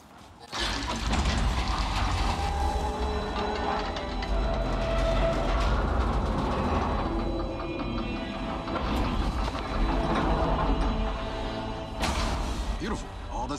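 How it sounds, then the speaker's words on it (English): Heavy train machinery clanks and rumbles in Gears 5 as a train is turned toward a hangar, dense loud mechanical grinding, thuds and whooshes with a rolling low drone, sustained for most of the span. "Jack, get that train pointed toward the hangar."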